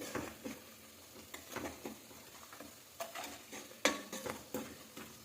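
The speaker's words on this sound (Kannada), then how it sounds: "ಮತ್ತು ರುಚಿಗೆ ತಕ್ಕಷ್ಟು ಉಪ್ಪು. ಹಾಕ್ಕೊಂಡು ಚೆನ್ನಾಗಿ ಫ್ರೈ ಮಾಡಿ." Green egg curry masala fries in a pan with salt. Irregular spatula scrapes and clinks come over a faint, quiet sizzle, close but soft.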